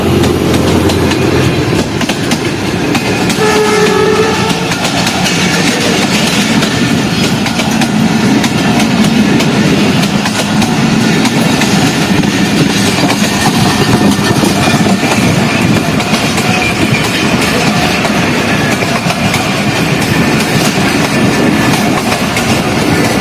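A passenger train bound from Peshawar Cantt to Quetta rolls past near Golra Sharif after rain, loud and steady for the whole stretch, with continuous wheel rumble and clickety-clack over the rails and no talk.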